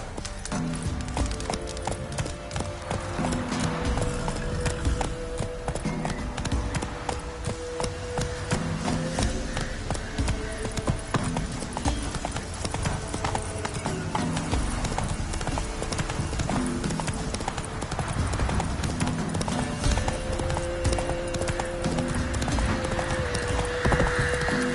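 Roach, Geralt's horse in Witcher 3, gallops with a steady, driving clatter of hooves that runs the whole time, mixed with background game music.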